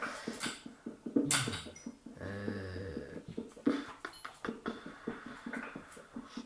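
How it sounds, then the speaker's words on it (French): A dog barks and whines in short, uneven bursts, mixed with nearby clattering and shuffling noises throughout. "C'est mon chien qui aboie là, pour l'instant."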